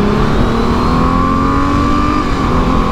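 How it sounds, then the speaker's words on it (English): Porsche Boxster exhaust booms loud and close while driving around town, a steady deep engine drone with a rising whine, no talk over it. "this thing does make a wicked noise, just bimbling around town with the exhaust kind of booming off the walls around you"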